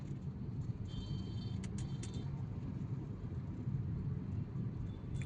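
A Maruti Ertiga car on the road near Katraj and Navale Bridge gives a steady, low, even engine and road rumble with no breaks, heard from close by.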